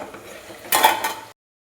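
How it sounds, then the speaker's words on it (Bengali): A metal lid is lifted off a pot of chicken curry and the contents are stirred, giving a short burst of close clatter and scraping with a brief ringing clink, then sudden silence. "এখন আমি ঢাকনাটা খুলে একটু নাড়াচাড়া করে দিচ্ছি"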